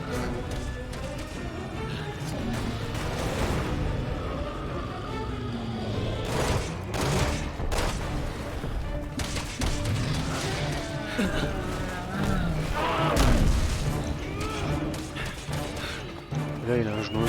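Gunfire and a thrown grenade in the Resident Evil 6 video game, a dense stream of shots with sharp impacts and a heavy burst near the end, under steady co-op player talk.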